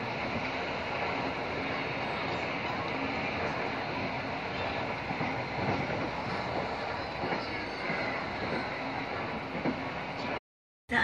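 KA Maharani passenger train running between Semarang Poncol and Ngrombo, heard as a steady, close rumble of wheels and carriage noise that holds throughout and cuts off briefly at the end, with no talking.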